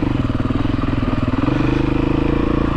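A Husqvarna TE310R motorcycle engine runs steadily while riding, a loud, close, continuous throbbing drone with a fast regular pulse and mild swells in pitch, with no speech over it.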